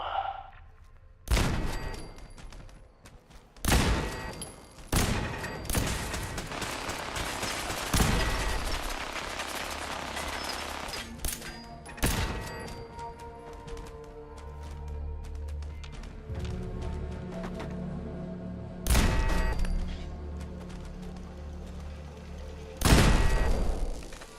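Gunfire in Fallout 4's Nuka-World, with sharp shots, short bursts and rattling volleys spread irregularly across the stretch, some loud and close with booming low ends, others lighter and overlapping.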